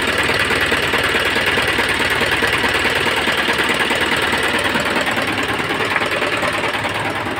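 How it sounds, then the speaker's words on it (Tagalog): A Mitsubishi Canter truck's 4D32 diesel engine idles while warming up, a loud, close, steady rapid clatter and knock that continues evenly throughout. "Painitin lang muna natin para ma-check natin kung may blow by o wala."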